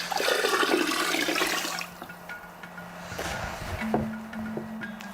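Water poured into a bucket while making fermented fish fertilizer: a close, splashing gush for about two seconds, then quieter trickles, drips and sloshing as the flow stops.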